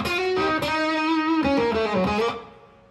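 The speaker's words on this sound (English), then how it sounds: "It's a great old arena rock kind of sound, kind of a mid-level distortion, or kind of like an old Marshall being pushed a little bit." An electric guitar plays through a Blackstar HT 20 Mk II tube combo at mid-level, arena-rock distortion: a short run of sustained notes and chords, loud and alone, ringing out at the end.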